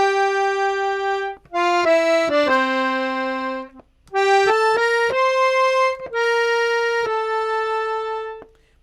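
An accordion plays with many reeds sounding together for a full master sound, sustained rich chords that change several times, with short gaps between phrases and no voices.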